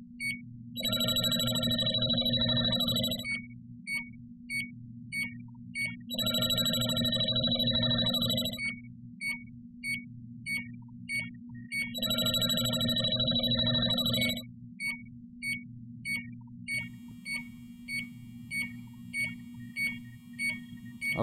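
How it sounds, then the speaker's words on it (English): A JB Industries Prowler LD5000 refrigerant leak detector sounds its alarm in three long, loud bursts of shrill electronic tones, separated by a steady pulsing beep that continues to the end over a low background hum. "that will alarm until the refrigerant wears off"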